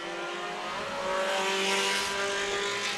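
Mini stock race cars at the start of a race on a tight quarter-mile speedway, several engines roaring together at full throttle, loud and continuous with a rising revving tone.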